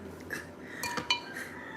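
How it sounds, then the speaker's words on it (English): A spatula clinks against a glass blender carafe in a kitchen, a few light, close metallic taps and clinks spread over a couple of seconds with no talking. "this spatula is going right back into that carafe for the blender"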